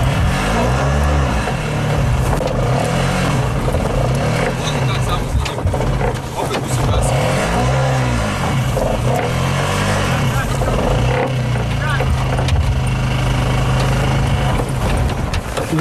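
An old car's engine catches after a push-start and revs, droning loudly and continuously with rising and falling surges, while people talk over it.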